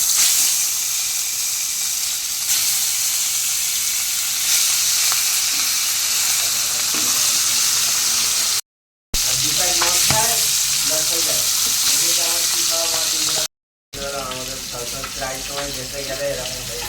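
Food fries in hot oil in a home kitchen, a loud, steady hiss and crackle of sizzling that runs almost without a break, with someone speaking faintly underneath toward the end.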